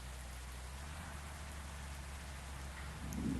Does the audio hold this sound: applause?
no